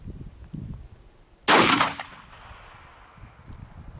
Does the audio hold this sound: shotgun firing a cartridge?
yes